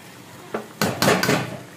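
Whole masoor lentils are tipped into a pot of fried spices and softened tomato for a pulao. A few close clattering knocks and scrapes against the metal pot follow in quick succession.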